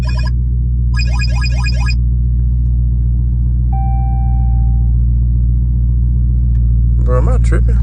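Loud Dodge Charger Scat Pack engine rumbling steadily in traffic, a deep continuous drone throughout, with music and brief chirpy sounds over it and faint voices.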